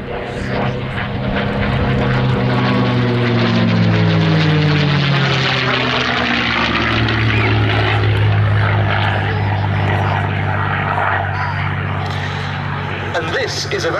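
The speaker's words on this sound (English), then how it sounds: "it's actually an Australian Commonwealth Aircraft Corporation built CA-18 Mustang Mark 21" An Australian-built Commonwealth Aircraft Corporation CA-18 Mustang Mark 21 warbird flies at an air display, its piston engine and propeller giving a loud, sustained drone that sweeps down in pitch as it passes, with talk underneath.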